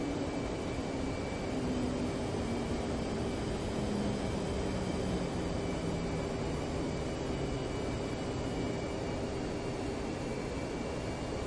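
F-15 jet engines in the DCS flight simulator, a steady loud turbine roar with a high whine, holding constant throughout with no talking.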